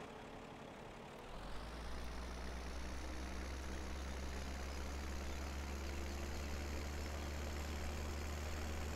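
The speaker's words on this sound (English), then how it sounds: "Then I'll have to move my tractor down too, I guess." A tractor engine idling in the farming game Farming Simulator 17: a steady low diesel rumble that starts up after a second and then holds an even drone, close and continuous, with no talk.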